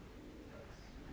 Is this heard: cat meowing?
no